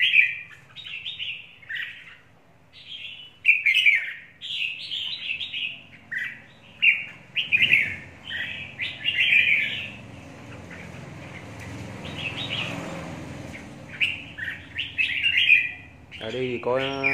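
Red-whiskered bulbuls in limestone mountain country near Lang Son give repeated bright, chirping calls in quick phrases, close and clear, with short pauses between bursts and a brief stretch of low background murmur.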